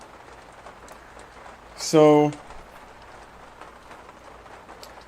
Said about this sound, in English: I'm inside of this Airstream, and it's raining, as you can hear.